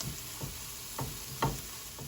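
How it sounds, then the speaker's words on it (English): Chopped garlic and onions sautéing in a pan, a soft steady sizzle with a few quiet scrapes of a utensil stirring at intervals. "now I'm gonna add half of a head of garlic that I've chopped. I'll saute that for about another minute"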